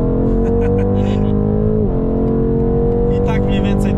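Tuned limited-edition BMW 8 Series making about 770 horsepower, accelerating hard on a road past trucks, with a loud, steady engine drone and a gear change midway while people talk over it.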